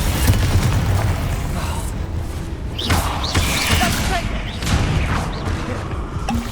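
Fiery Confringo spell blasts in Hogwarts Legacy, a loud booming burst with thuds amid dense battle noise and other spell effects, continuous and close throughout.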